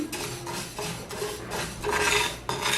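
Fenugreek seeds, rinsed and dried, stirred while dry-roasting in a pan on low heat: soft rhythmic scraping and rustling strokes repeating every half second or so, close and fairly quiet, with no talking.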